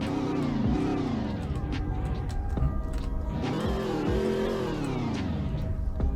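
A WSP trim police car in the Greenville video game starting up and idling, its engine note rising and falling in two smooth revving swells over a steady close rumble, heard alone with no talk.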